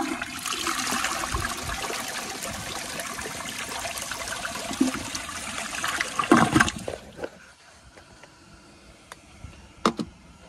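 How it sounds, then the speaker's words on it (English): A 2002 Sanitarios Maracay toilet flushes with a loud, close rush of water for about seven seconds, then drains off into quieter trickling, with a couple of brief knocks near the end. "very nice flush"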